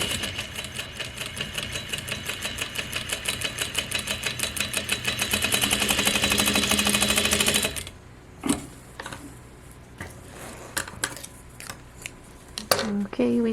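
A Juki DDL-8700 industrial sewing machine stitches in a fast, rising run for about eight seconds, then stops, leaving quieter clicks and handling noises.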